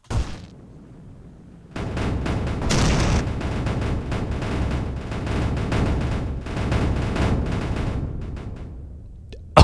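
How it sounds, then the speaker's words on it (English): A base blows up in the video game Mindustry: after a brief quiet stretch, a loud, dense barrage of booming explosions and crackling blasts rolls on for several seconds, heavy and rumbling, before cutting off abruptly. "I am very happy I did that because that was a big explosion"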